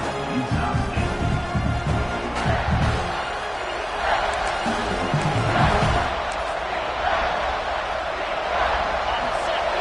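A college football stadium crowd at a Utah State versus Utah game roars continuously during a third-down red zone play, a dense, loud wash of cheering with thumps and swells as an announcer talks over it.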